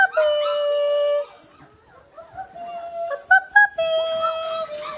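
Four-week-old puppies at feeding time give long, rising howls and whimpers, several close together and loud, with a short quieter stretch in the middle.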